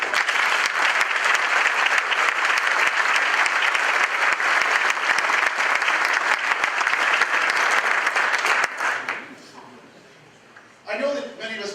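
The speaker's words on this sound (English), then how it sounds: "Let's give them all a round of applause." Sustained round of applause from a banquet audience at an economic development annual dinner, steady dense clapping for about nine seconds before tapering off, then a voice begins speaking.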